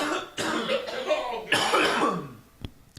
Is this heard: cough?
yes